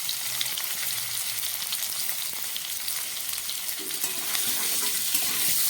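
Pieces of katla fish and cauliflower fry in hot oil with turmeric, a dense steady sizzle with light stirring, close and uninterrupted by speech.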